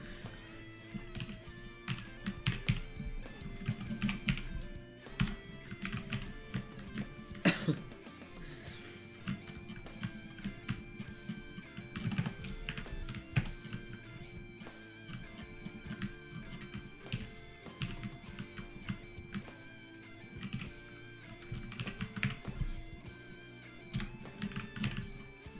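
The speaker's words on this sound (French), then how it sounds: "Le clavier revient parmi nous." Continuous typing on a computer keyboard, quick irregular clicks and keystrokes close up, with occasional heavier taps, through a long stretch without speech.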